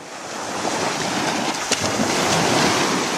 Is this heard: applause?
no